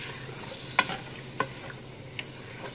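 Pork is stirred with Indian-style seasonings in a pot, soft scraping strokes over a faint sizzle, with three or four distinct spoon clicks standing out against a quiet background.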